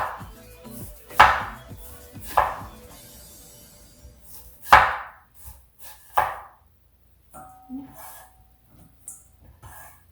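Knife chopping through an onion by hand on a cutting board, a handful of loud, close, irregular cuts with quiet gaps between them, no talking.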